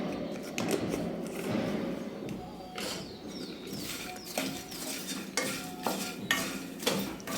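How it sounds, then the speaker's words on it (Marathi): Fox nuts (makhana) with salt and spices are stirred in a pan, giving a continuous dry rattling and scraping with light clinks of the utensil, close and steady. "आता आपल्याला चांगलं मिक्स करायचं आहे, चांगलं मिक्स एकजीव करायचं आहे।"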